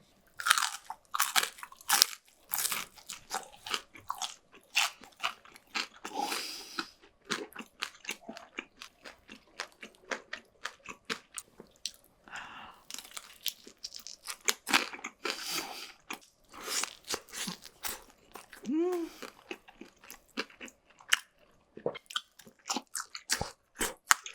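Loud, close crunching bites into crispy fried octopus, followed by repeated crackly chewing in irregular bursts with short pauses between.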